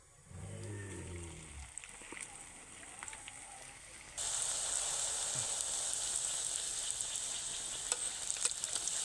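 Leftover-rice dough drops into hot oil in a wok and a broad, steady sizzle swells up and keeps hissing, with a few faint pops and clinks along the way.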